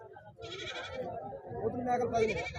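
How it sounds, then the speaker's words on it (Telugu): Native goats bleat close by at a weekly goat market in Husnabad, several wavering calls overlapping with someone talking throughout. "నాటు మేకలు అండి పోతులు ఉన్నాయి మేకలు ఉన్నాయి"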